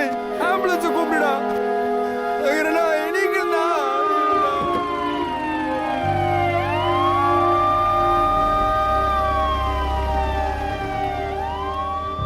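Ambulance siren wailing in rising and falling sweeps, loud and close for the whole stretch, with a vehicle engine rumbling low underneath from midway and a few voices talking over the start.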